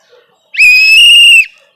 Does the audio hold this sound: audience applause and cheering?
no